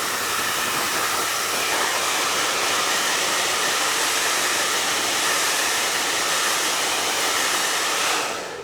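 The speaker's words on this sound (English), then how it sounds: "use the blow dryer." Steady, loud rushing whoosh of a blow dryer drying a hair system's lace for several seconds, then cutting off at the end; no voices.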